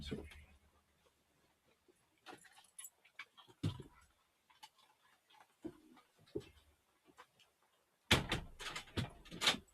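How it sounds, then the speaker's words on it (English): A door is handled and shut indoors: scattered quiet knocks, clicks and rustles lead up to a louder cluster of sharp thuds and latch noises near the end, with a voice speaking softly in between. "Okay, I will close the door."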